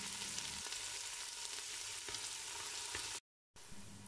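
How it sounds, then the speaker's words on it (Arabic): Finely chopped large onion frying in two spoons of animal ghee for stuffed potatoes, a steady close hiss of sizzling fat with faint stirring, broken by a brief cut near the end before the frying resumes. "حطيت أنا معلقتين سمنة حيواني وحطيت معهم بصلة كبيرة مفرومة ناعمة كتير"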